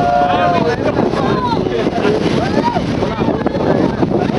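Ship sailing out to sea off Whitby, with steady loud wind buffeting and rushing water noise throughout, while people talk close by.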